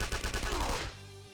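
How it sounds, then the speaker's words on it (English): Rapid burst of automatic gunfire from a gunfire skill in Persona 5 Royal, a loud rattling volley of closely spaced shots that cuts off after about a second, leaving a brief ringing tail. "Gunfire?"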